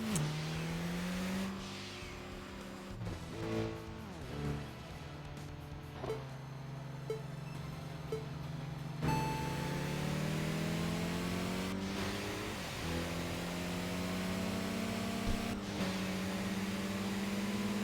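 A modified Suzuki Cappuccino in the Tokyo Xtreme Racer racing game, its engine droning and revving continuously with rising and falling pitch through gear changes and sustained acceleration, loud and steady throughout with no talking.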